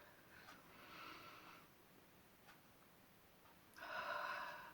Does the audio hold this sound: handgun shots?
no